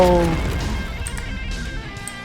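A teammate's grenade detonates in an online shooter game, a loud burst at the very start that fades over about two seconds while a player talks.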